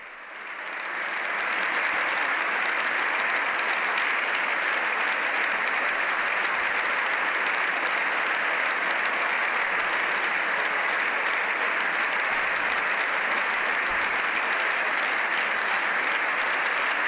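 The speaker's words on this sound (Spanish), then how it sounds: "Largo el aplauso que ofrecen al Papa León XIV" Long, sustained applause for the Pope from deputies in the Spanish parliament in Madrid, a dense, steady roar of many hands clapping that swells in at the start and holds loud and even to the end.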